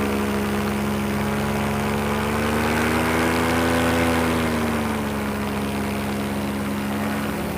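A propeller aircraft engine drones steadily in a video game, its harmonic hum rising and falling in pitch over several seconds, loud and continuous with no talking.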